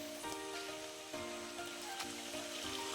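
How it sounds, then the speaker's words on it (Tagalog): Steady rain falling, a soft continuous hiss with faint drops, fairly quiet and with no voices. "Panay ulan talaga."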